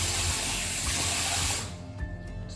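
A bathroom sink tap runs hard and close while someone washes their face, a loud steady rush of water that cuts off partway through, leaving light splashes and dripping.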